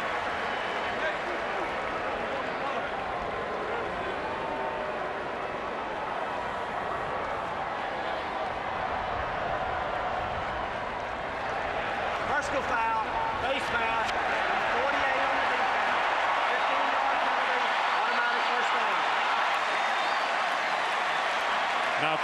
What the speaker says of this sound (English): LSU's applauding